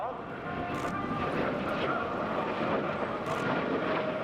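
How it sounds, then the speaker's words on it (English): A Soviet Mikoyan-Gurevich MiG-17 jet fighter passes at an airshow, its engine a broad, steady roar that swells slightly, with an announcer speaking over it. "Here is one from the Soviet Union, the Mikoyan Gurevich MiG-17."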